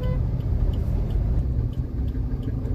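A car driving into the three-storey pay-and-park lot at Rajiv Gandhi Zoological Park, Katraj, Pune, heading up to the top floor: a steady, loud low engine rumble throughout, with no talk.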